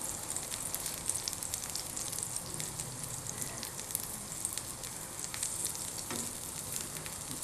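Lemon slices frying lightly in olive oil give a steady, soft sizzle with scattered small pops and crackles, fairly quiet and close, with no voices.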